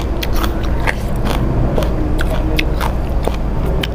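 Someone eating steamed rice with sweet pork liver, close chewing and biting crunches repeating steadily over a constant low background hum, with no talk.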